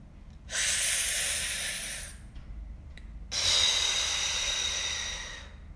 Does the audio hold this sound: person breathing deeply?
yes